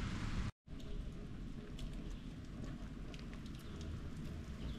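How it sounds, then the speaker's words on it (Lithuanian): Steady rain hisses in a dense wash of noise during a lightning storm, broken by a brief dropout near the start, with faint scattered drips over a low rumble. "lietus linuoja, žaibuoja"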